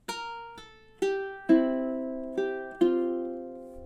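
Ukulele fingerpicked in a three-finger style, playing a chordal ending to an etude with several notes struck together, about six plucked chords ringing out and decaying, close and clear with no voice.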